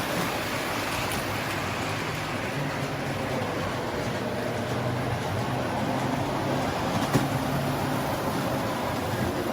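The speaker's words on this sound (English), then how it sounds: "So we have a trolley running, and it goes over there and comes back around here through the tunnel." A model trolley train in a Christmas village rolls along its track with a steady, continuous mechanical rumble and faint clicks, even in level and unbroken, with no voices over it.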